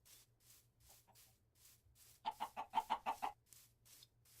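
A quick burst of several chicken clucks in a row in a Minecraft modpack, fairly faint, over a low steady background hum with soft rhythmic noise.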